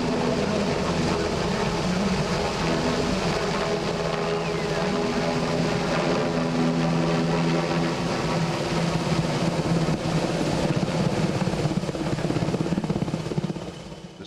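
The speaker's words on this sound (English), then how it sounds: "This helicopter is in service in the Spanish Army since 2016, with a total of 22 helicopters to be delivered by 2021." A Spanish Army NH-90 military helicopter flies at an air show, a loud, steady rotor and turbine roar with a low throbbing beat that holds for the whole stretch and fades slightly at the end.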